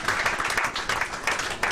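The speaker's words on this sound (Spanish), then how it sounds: "Everybody give a hand to Juan Carlos." Audience applause at a children's church service, with steady dense clapping filling the whole short stretch at moderate loudness.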